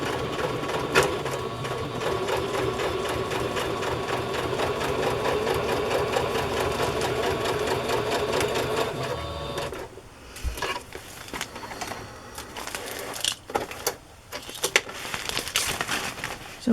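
A sewing machine stitches seams of a fabric placemat holder, running in a fast, steady mechanical whir for about nine seconds, then stopping and restarting in short bursts with clicks and fabric handling, close by.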